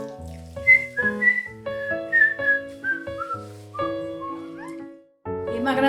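A person whistles a bright melodic tune alone, a run of clear sustained and gliding notes with short pauses, close and fairly loud.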